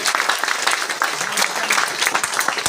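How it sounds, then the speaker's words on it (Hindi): Loud, sustained audience applause fills a business and product training seminar, with dense clapping from start to finish. "जोरदार ताली आप सबके लिए"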